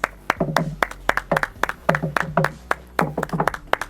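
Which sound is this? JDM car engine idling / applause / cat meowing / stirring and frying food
applause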